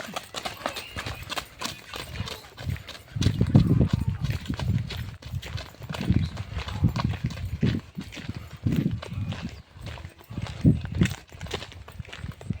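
Clip-clop of a working farm horse being ridden, the hooves beating in an uneven walking rhythm at moderate distance, with faint talk and outdoor background between the steps.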